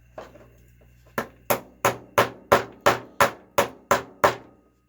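A nut on a Traxxas Pro 15 nitro model engine is struck about ten times with a hammer to drive it back and loosen the collet. The sharp metallic taps are close and loud, evenly spaced, each decaying quickly, with no talk.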